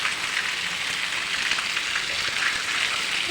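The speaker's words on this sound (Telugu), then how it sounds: "ఇప్పుడు చూడండి ఎంత గట్టిగా వస్తుందో వాన ఫుల్." Heavy rain pours down in a loud, steady, unbroken hiss, with no voices over it.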